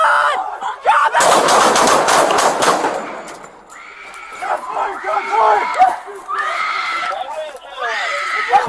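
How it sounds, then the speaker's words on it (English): A rapid volley of gunshots in police footage, loud cracks fired in quick succession that smear into a dense burst, followed by shouting voices and chaotic yelling at close range. "Shots fired, shots fired."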